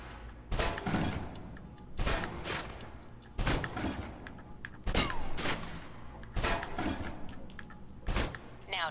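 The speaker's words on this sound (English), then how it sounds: "Now let's empty the clip. Let you get a feel for the recoil." A submachine gun emptied in the Alpha Protocol video game: about six long automatic bursts, each a dense rattle of shots separated by short pauses, loud and close with no voice over them.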